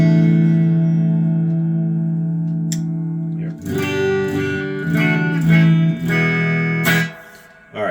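Clean electric guitar through a Gibson GA-30 RVT amplifier: a ringing held chord at first, then a run of picked notes and strummed chords before fading out.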